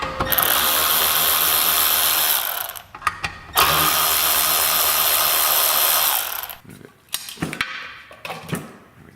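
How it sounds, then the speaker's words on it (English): A Milwaukee automatic socket driver whirs loudly on a 1980s pellet stove motor in two sustained bursts, followed by quieter clicks and ratcheting from a socket wrench. "11/32 wrench, Milwaukee automatic socket driver, socket wrench"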